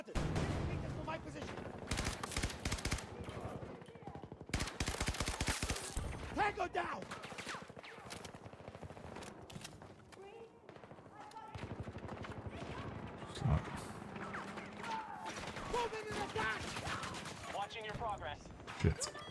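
Rapid bursts of automatic gunfire from a multiplayer shooter video game battle over capture sectors, dense volleys and single shots spread across the whole stretch, with someone talking over the shooting.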